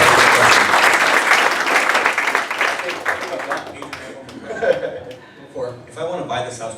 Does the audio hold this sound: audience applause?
yes